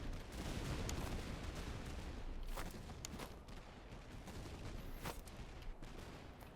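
Battle din from the Napoleonic-era strategy game Master of Command, with artillery and musket fire rumbling together as a steady, distant-sounding barrage that stays fairly quiet throughout.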